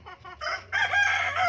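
Chickens in a backyard coop cluck and call loudly and close by, with a short burst of calls followed by a longer, fuller stretch of sustained cackling. No one speaks.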